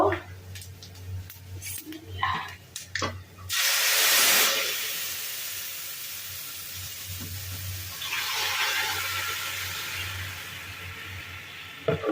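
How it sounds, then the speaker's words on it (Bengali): Vegetable curry tipped into a hot pan of browned vegetarian ingredients bursts into a loud steamy hiss, then settles into a steady sizzle. Brief speech comes before the burst. "এখন আমার সবজি তরকারিটা দিয়ে দিব।"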